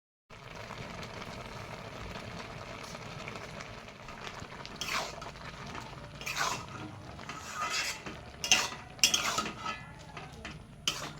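Jute greens are stirred into lentils in a pot, soft wet churning under a quiet hiss, with metal spoon clinks and scrapes against the pot growing busier toward the end.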